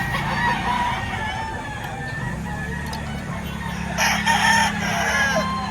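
Roosters crow at a chicken market in Lipa, Batangas, their calls ringing out among clucking fowl and a low market hum, with one louder crow rising near the end.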